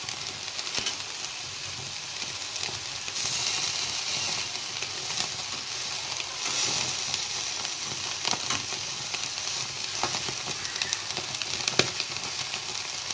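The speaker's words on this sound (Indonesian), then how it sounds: "Setelah itu kita bakar." Fish that was first cooked in a thick coconut-milk gulai sizzles steadily on the grill, with a continuous hiss and crackle and occasional sharp pops, close and even throughout with no talking.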